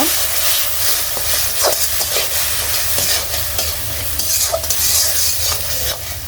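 Salt, turmeric and chili powder sauté in a pan, a loud continuous sizzle broken by repeated scraping strokes of a spoon, close and without talk.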